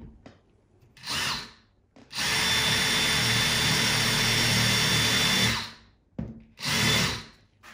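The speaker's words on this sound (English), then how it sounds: "Bought this new countersink to speed things up instead of using a drill bit." A power drill fitted with a new countersink bit bores into a wooden floor: a brief whir, then a long steady grinding run of about three seconds, then two more short bursts, close and alone.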